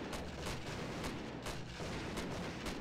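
Shotgun blasts ring out in a Grand Theft Auto game, several sharp reports spaced about half a second apart over a steady noisy background, fairly quiet overall and with no voices.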